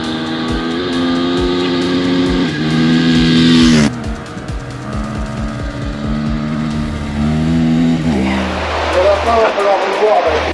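A 500 motorcycle is ridden on its back wheel. The engine is close and loud, and its droning note rises and falls as the rider works the throttle, with a lower rumble near the end.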